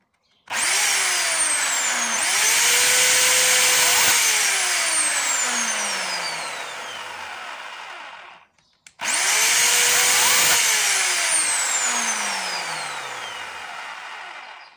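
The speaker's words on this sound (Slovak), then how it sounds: "máme tu túto pílu, elektrickú reťazovú a prestala točiť reťaz" An electric chainsaw whose chain has stopped turning whines loudly up to speed and winds down, then a brief pause before a second, similar run that slowly fades.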